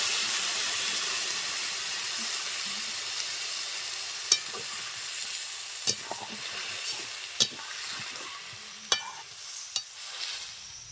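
Shrimp and taro stolon curry sizzling steadily in a pan just after a little water is added, a broad continuous hiss with occasional sharp pops and clinks, no talking.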